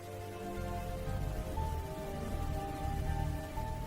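Steady rain falls throughout, a dense continuous patter with a low rumbling undertone, fairly loud and even, with faint tonal hum in the background.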